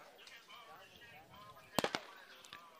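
A starting gun fires to begin a 200 m race, a sharp crack with a quick echoing double report, heard under a commentator's voice and stadium crowd noise.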